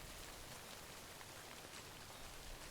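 Rain falls in the video game Death Stranding as a steady, even hiss of drops, soft and continuous throughout, with no speech.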